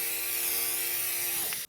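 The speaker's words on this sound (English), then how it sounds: "Just push and spray." A rechargeable, hands-free electric spray bottle filled with cool water runs with a steady, close motorized whir and faint hiss for about a second and a half, then stops with a brief mechanical click; no talking.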